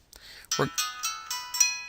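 Incoming text message alert on a technician's mobile phone for a service ticket, a short series of bright electronic chime tones repeating about five times in quick succession, close and clear, with a brief low murmur near the start.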